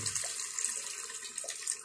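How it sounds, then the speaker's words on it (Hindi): Hot water poured into a cooking pot while making pulao biryani, a steady broad splashing pour running close and continuous for about two seconds with no talk. "अब दोस्तों हम पानी डालेंगे। ये मेरे पास गर्म पानी है"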